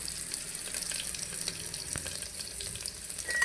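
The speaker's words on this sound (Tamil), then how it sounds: "நல்லா காஞ்ச மிளகா நல்லா ஃப்ரை ஆகட்டுங்க" Dried red chillies frying in hot oil, a steady faint hiss and crackle like running water, close but quiet, with no talking.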